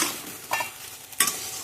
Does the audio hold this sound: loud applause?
no